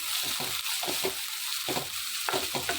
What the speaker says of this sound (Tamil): பச்சை மிளகாவும் வெங்காயமும் போட்டாச்சு இது வதக்கலாம்